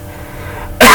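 A teacher clears his throat with a single sharp, loud burst near the mic at the very end, after a stretch of quiet room tone.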